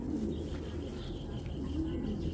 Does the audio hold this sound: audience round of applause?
no